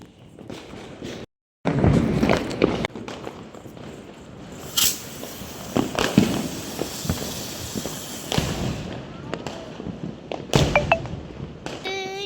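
Diwali firecrackers, including a flower pot firework, bursting outdoors: a sustained hissing spray broken by several sharp bangs and thuds at varying distances, with brief voices in the background.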